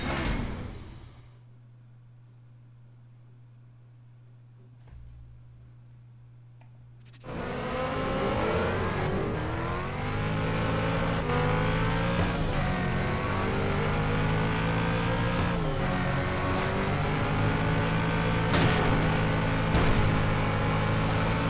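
A Koenigsegg CCX race car engine in the racing game Need for Speed No Limits roars in after a quiet start, revving and shifting continuously at close range with loud sustained acceleration.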